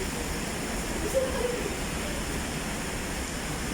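Very heavy rain falling over Metro Manila, a dense, steady broadband hiss that stays loud and even throughout, with no voices and no breaks in the downpour.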